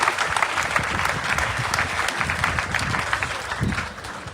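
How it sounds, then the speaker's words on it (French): A congregation at a church funeral applauds, sustained dense clapping from many hands that stays loud and close before easing slightly at the end. "j'aimerais qu'on acclame encore pour ces temps"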